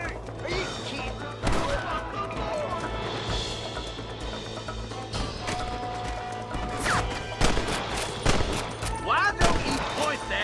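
Repeated gunfire in a Western-style shootout, sharp cracks and bursts of shots ringing out across the span, loud and near, with shouting voices and a constant low hum underneath.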